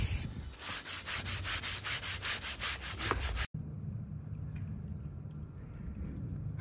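A stiff brush scrubs sticky residue off fiberglass pool steps with an acrylic coating, making rhythmic rasping strokes up close for a few seconds before stopping abruptly, followed by a quieter, steady background.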